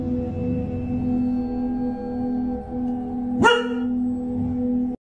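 A dog growls low and sustained, a continuous rumbling drone that holds nearly the whole time with one sharp louder yelp midway, close and fairly loud, ending abruptly.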